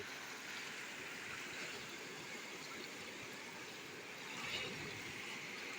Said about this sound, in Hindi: आप पानी की आवाज़ सुन सकते हैं